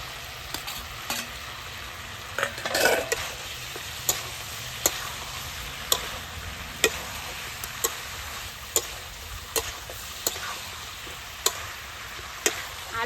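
A spoon stirs fried potatoes into a duck meat curry in a pan, with steady sizzling frying underneath and sharp, regular scraping ticks about every second, no talking.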